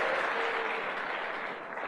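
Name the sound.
audience applause at a motivational talk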